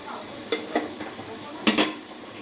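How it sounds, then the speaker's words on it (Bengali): A lid set onto a cooking pot of Malabar spinach in a home kitchen, sharp metallic clanks and clatters, a couple of quick knocks early and a louder double clatter later, close by with no talk. "পুঁই শাকটা ঢেকে দেবো, ঢেকে দিয়ে সিদ্ধ দেবো।"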